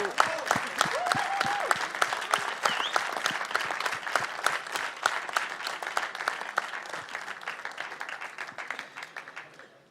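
An audience applauds at the FIFA Interactive World Cup 2013 final. The clapping is dense and sustained for about ten seconds and fades slightly toward the end.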